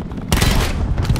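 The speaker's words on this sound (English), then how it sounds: "Cluster grenade" A cluster grenade in Call of Duty: Black Ops 4 sets off a sudden loud blast followed by a rumbling spread of crackling secondary bangs that keep going.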